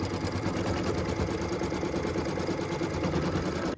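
A sewing machine runs steadily, stitching a placement line for a felt Christmas ornament in a continuous even whir with a fine rapid needle pulse throughout.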